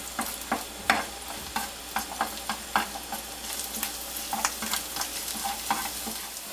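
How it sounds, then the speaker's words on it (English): Garlic frying in olive oil in a pan, a steady sizzle broken by frequent sharp scrapes and clicks as it is pushed around, fairly close and continuous with no talking. "I'm just going to get some olive oil going in my pan. And then I'm going to add my garlic."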